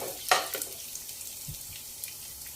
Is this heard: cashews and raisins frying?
yes